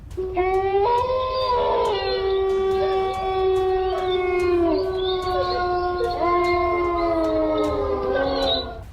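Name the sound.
unexplained howling in a creepy video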